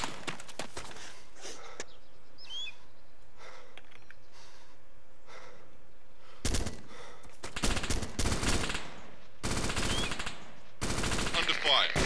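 Multiplayer Arma 2 battle with bursts of machine-gun and rifle fire, quiet stretches broken by loud rapid volleys in the second half, close and sharp.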